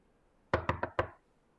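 Four quick knocks on a door, close and distinct, rapping in a fast uneven burst against an otherwise quiet room.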